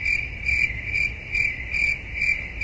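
Crickets chirp in steady, evenly spaced bursts, a bright trilling pulse repeating about twice a second over quiet background.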